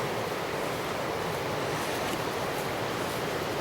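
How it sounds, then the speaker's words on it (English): River water running high after heavy rain near St. Patrick's Chapel, Strageath, produces a dense, constant broadband rush, loud and unbroken, with some wind buffeting and no voices. "You could probably hear the water."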